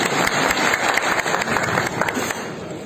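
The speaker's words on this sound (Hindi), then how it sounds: "एक ताली बजाकर धन्यवाद।" An audience applauds at a film event for Mera Bharat Mahan, with Pawan Singh and Ravi Kishan present. The clapping is dense, steady and close, lasting about three seconds with no voices over it.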